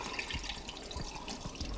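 Tap water runs steadily into a stock pot holding three chicken frames, a continuous splashing rush with small gurgles, close and alone.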